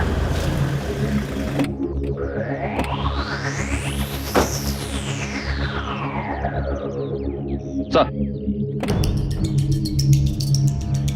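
A police superintendent's car arrives in an Indian crime drama: a steady engine rumble rises into a swelling whoosh, then fades away before a sharp burst of noise near the end. The sound is loud and close throughout.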